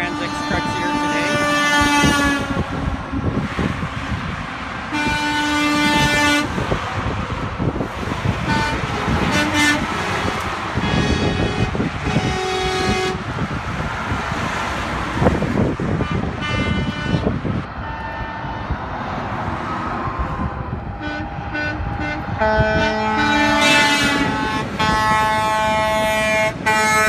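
Truck horns tooting repeatedly in a truck convoy, loud sustained air horn blasts overlapping and starting and stopping in irregular bursts, with engines rumbling underneath and occasional voices.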